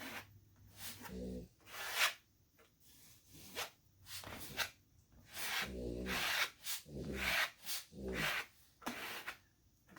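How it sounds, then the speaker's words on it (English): A dog sniffs repeatedly at a door at close range, bursts of rapid snuffling breaths in an uneven rhythm with short pauses between. "That's my dog sniffing at the door to see if she can smell her"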